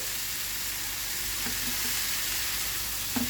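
Chicken tikka pieces sizzling in a pan just after being flipped, a constant hiss of frying with a couple of soft utensil taps, close and without talk.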